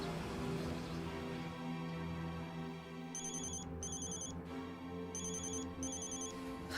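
A telephone rings during a call to a younger sibling in a family drama. Two short bursts of electronic trilling ring out a second apart, fairly quiet over a low background drone.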